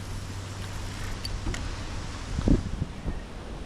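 Outdoors by the Condamine river, wind rushes steadily into the microphone with low buffeting rumble and a few gusty thumps, no voices.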